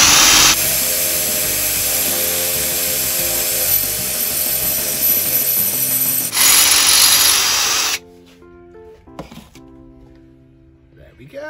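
A power drill whirs loudly and steadily for several seconds, shifts pitch briefly, then stops; someone speaks a few words afterward amid quiet handling noises.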